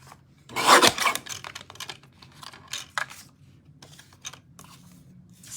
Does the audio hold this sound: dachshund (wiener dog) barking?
no